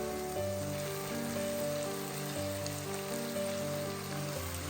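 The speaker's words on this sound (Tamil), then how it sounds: "மேரினேட் பண்ணி வச்சுருக்கிற சிக்கனை இப்போ நம்ம ஆட் பண்ணலாம்" Marinated chicken for Pallipalayam chicken fries in a pan with a steady, crackling sizzle, close and even, with no voices and tonal music running underneath.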